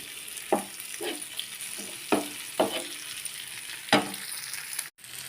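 Green fish fry, coated with coriander and green chilli, sizzles steadily in a pan, with several sharp scraping stirs and spatula taps standing out over the constant hiss.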